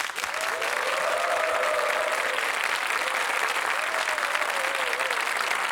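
An audience applauding to welcome a guest onto a stage, dense continuous clapping at a steady loud level throughout.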